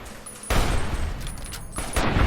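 A weapon fires in a Fallout video game, a loud sustained burst of shots that breaks off briefly and then starts again, close and harsh.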